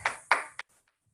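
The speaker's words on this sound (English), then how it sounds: "give yourself a round of applause" Three quick, sharp claps from a fitness class end a workout, close and fairly quiet, spaced evenly and then cut to silence.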